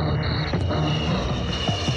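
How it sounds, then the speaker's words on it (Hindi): An airplane flying sound effect played from a tape recorder, a steady loud engine drone with a whining tone that holds evenly throughout, close and unbroken. "हवाई जहाज ऐसे उड़ेगा"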